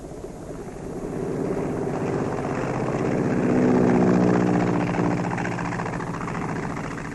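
Wright Brothers' early powered airplane engine running steadily with a rough, throbbing drone that swells to a peak and then eases slightly, loud and continuous with no voices.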